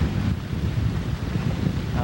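Strong gusting wind buffets the microphone aboard a sailboat crossing Lake Huron, a loud low rumble that swells and eases in a continuous roar, with faint water noise beneath.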